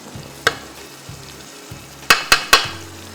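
Meat fries in a pot with ginger garlic paste, a soft sizzle under a low hum, broken by sharp scrapes and clinks from stirring, one early and three close together near the end.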